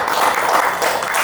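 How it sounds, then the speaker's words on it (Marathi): An audience bursts into a short round of loud, dense clapping at a felicitation during a lecture series marking the Mahatma Jyotirao Phule birth bicentenary, steady for about a second with no talk over it. "सर्वांची जोरदार टाळ्या झाल्या पाहिजेत"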